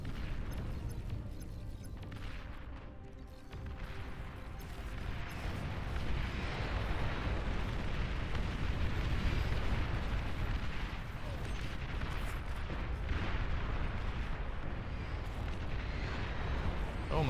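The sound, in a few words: Cerberus unit firing in video game Beyond All Reason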